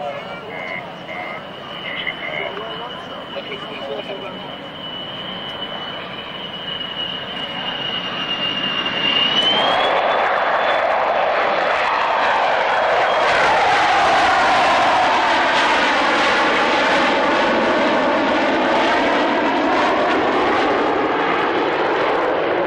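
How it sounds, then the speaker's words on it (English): Aircraft at the 2002 Biggin Hill Airshow raising its undercarriage and powering away, its engine drone swelling from a whine into a loud, sustained roar that dominates, with a commentator's voice over the public address underneath. "watch at the end of the flight as the undercarriage will be raised and the aircraft will power away."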